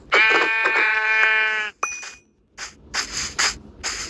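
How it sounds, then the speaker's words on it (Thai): A white sheep in Minecraft gives a loud, wavering bleat lasting over a second, followed by a shorter clipped bleat and several brief game sound bursts in quick succession. "เออนี่แกะขาว"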